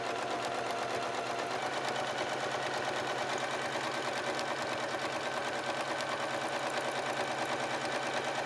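A sewing machine runs continuously while stitching straight quilting lines, a fast, even mechanical whir with rapid needle ticks, close and steady without pauses.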